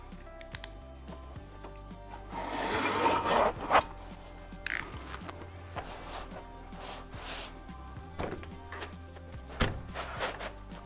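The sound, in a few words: cutting and booking pasted wallpaper material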